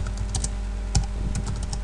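Fast, steady typing on a computer keyboard, close and crisp, with one slightly heavier keystroke near the middle and no talking.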